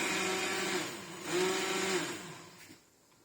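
A blender whirs while making a strawberry smoothie, a steady high motor whine that swells in the middle and then winds down, with nobody speaking.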